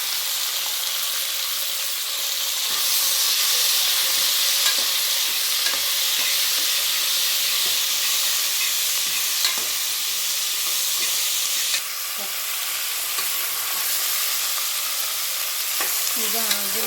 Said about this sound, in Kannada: ಈಗ ಗುಳ್ಕಾಯಿನ ಹಾಕ್ತಾಯಿದ್ದಾರೆ